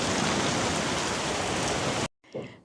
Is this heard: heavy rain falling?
yes